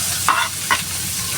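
Garlic frying in butter in a pan for sautéing, steady sizzle with two quick stirring scrapes close by, no voices.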